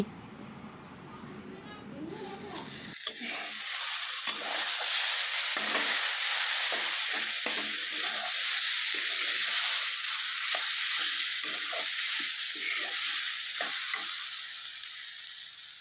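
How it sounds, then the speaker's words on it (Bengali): Fried soybean chunks and potato pieces sauté with spices in a pan, breaking into a loud, steady sizzle after a quieter start, with repeated scraping and stirring strokes on top. "এখানে সয়াবিন আলু ভেজে রাখাগুলো মশলার সাথে ভালো করে কষিয়ে নিই"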